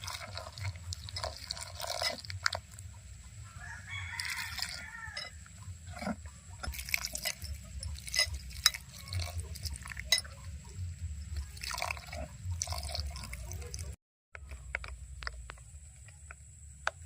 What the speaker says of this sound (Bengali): অল্প অল্প জল দিয়ে একটা ব্যাটার তৈরি করে নেব